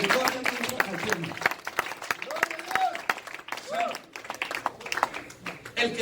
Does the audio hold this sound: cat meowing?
no